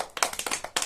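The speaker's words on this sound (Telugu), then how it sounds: "గట్టిగా క్లాప్స్ కొట్టండి, గట్టిగా." A group of people in a Telugu village game claps loudly in quick, uneven bursts of sharp hand slaps, close and brief.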